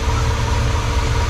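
A big block 454 V8 in a square body C10 truck runs just after a cold start, its electric choke not yet connected, giving a loud, close, steady low rumble with uneven pulsing.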